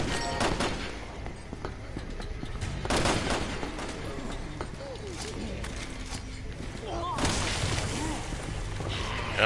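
Gunfire in Resident Evil 6: several loud, sharp gunshots ring out at irregular intervals amid game noise, with a voice talking over parts of it.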